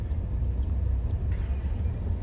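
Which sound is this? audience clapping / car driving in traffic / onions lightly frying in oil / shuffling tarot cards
car driving in traffic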